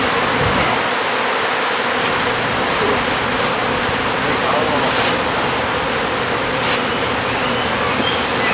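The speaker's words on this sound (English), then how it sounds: "Lot of bees." A dense swarm of bees fills a home, a steady close buzzing drone that runs unbroken throughout with a hissy, wash-like texture.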